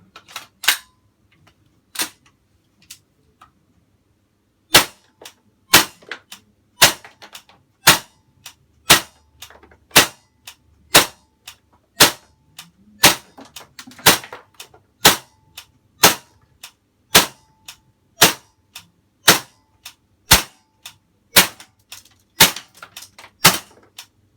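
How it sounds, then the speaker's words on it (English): A gas-powered airsoft M4 rifle fires about twenty sharp, loud single shots at a fairly steady pace, each crack clean and isolated against near silence. "another 21 rounds or so out of the second fill, and it's completely out of gas"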